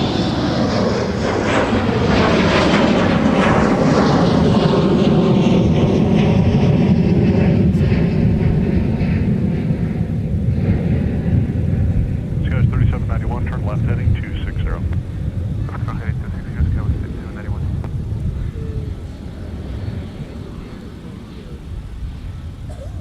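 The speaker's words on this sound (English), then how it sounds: "There's Alaska departing the north parallel off to Seattle. It's with the Boeing" Alaska Airlines Boeing 737 MAX 9 departing at MSP airport, a loud jet engine roar with a sweeping pitch as it passes and then fades into the distance, while a voice talks over it.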